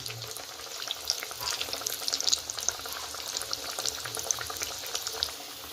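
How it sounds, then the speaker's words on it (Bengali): Vegetable-stuffed pitha deep-fry in hot oil, giving a steady, soft bubbling sizzle with occasional crackles, heard alone at close range. "প্রত্যেকটা এইভাবে ডুবো তেলে ভাজা হবে"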